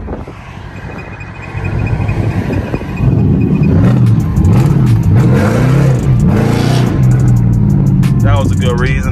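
A catless Chrysler 300 revs hard and pulls away on a suburban street, the loud engine roar rising and surging through the gear changes, with wind noise under it.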